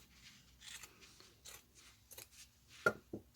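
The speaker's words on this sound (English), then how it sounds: "So take your good fabric scissors and start cutting along here." Fabric scissors snipping through fabric, a series of short crisp cuts spaced irregularly, quiet and close, with no voices.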